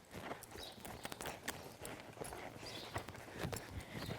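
Horse hooves walking on ground during a training drill, a steady run of soft, irregular clip-clop steps at moderate distance with no talking.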